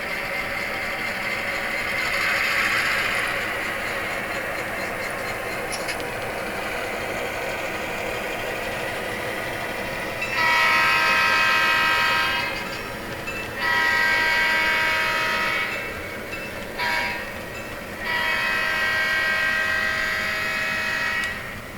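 Model train locomotives with Blunami sound decoders run with engine rumble, and bursts of air horn come in around the middle and near the end, fairly close and loud, with no talking.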